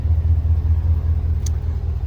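A car engine idles after a Mishimoto universal transmission cooler install, holding a steady low rumble that stays close and even with no speech.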